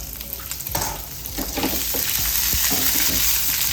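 Small, hot green chilies fry in a pan for a Kerala-style egg curry. A loud, close, continuous sizzle and crackle runs throughout, with stirring clicks and scrapes over it.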